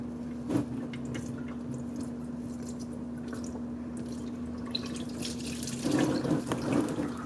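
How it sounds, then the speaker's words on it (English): Automatic transmission fluid draining from a 1997–2001 Honda CR-V with its drain plug removed, a steady soft trickle into a pan with occasional splashy bursts, close by, no talk. "let your transmission drain completely."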